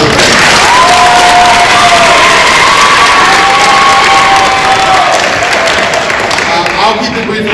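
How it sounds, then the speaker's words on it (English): Dense audience applause with cheering and whoops fills the room continuously, loud and sustained throughout, with shouting voices rising over the clapping at a school event. "So give him another round of applause for that."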